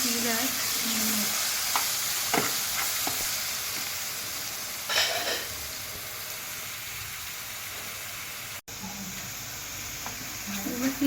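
Cumin, coriander powder and garam masala sizzling steadily in a hot pan for chicken bread rolls, a continuous bright fry with occasional stirring scrapes, close up, with someone talking over it.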